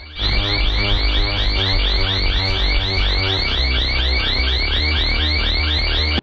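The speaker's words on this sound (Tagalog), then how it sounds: "Bigla na lamang tumunog ang alarm na napakalakas habang nag-explore ito sa isang abandoned building" A very loud, continuous electronic alarm blares nonstop inside an abandoned building, a harsh, steady pulsing tone that fills the space from start to finish and then cuts off abruptly.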